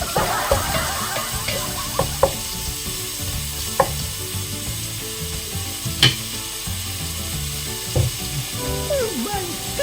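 Onion sizzles loudly and continuously in a hot pan while cooking pinapaitan, broken by a few sharp clinks and scrapes of a utensil, with no one speaking.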